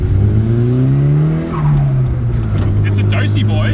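A Toyota Chaser JZX100's 1JZ engine breathes through a VAREX remote-control muffler, a loud, close, deep droning exhaust whose pitch climbs, dips briefly, then settles into a steady rumble, with a voice over it near the end.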